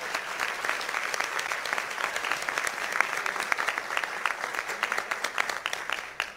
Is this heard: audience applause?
yes